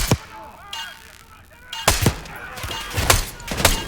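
Gunfire exchange in the Black Ops 6 campaign: sharp, punchy shots crack out one at a time, a lone report first, then a quick cluster of several loud bangs after a short lull.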